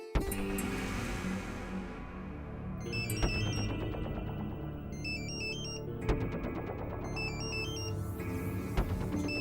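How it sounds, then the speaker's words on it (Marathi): A telephone rings late at night in a home, its electronic ringtone repeating in steady bursts for several seconds, loud and close with no one speaking. "एवढ्या रात्री कोणाचा फोन आहे?"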